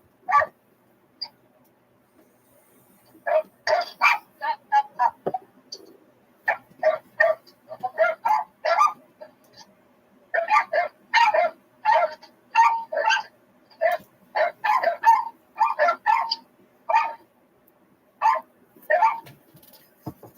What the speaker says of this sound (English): We had dogs bark.